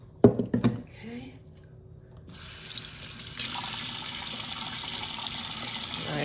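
A kitchen tap runs steadily to rinse fish with apple cider vinegar for steamed fish with garden herbs. A few close clinks and handling knocks come first, then a brief pause, then a constant splashing stream that continues to the end.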